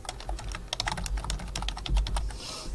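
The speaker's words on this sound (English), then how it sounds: "You can type right on here." Close, rapid typing on a computer keyboard, with quick irregular key clicks and taps running steadily for a few seconds.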